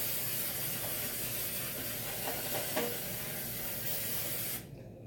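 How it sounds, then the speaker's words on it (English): Cooking spray hisses steadily from a can into a foil-lined pan over a sink, one long continuous spray at close range that cuts off sharply near the end. "And then spray again."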